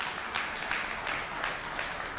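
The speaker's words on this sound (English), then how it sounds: "Yeah, we could clap for that, please." Applause from an audience at a city mayor's swearing-in ceremony, a steady wash of hand claps at moderate distance with no clear breaks, a few slightly louder bursts rising and falling through it.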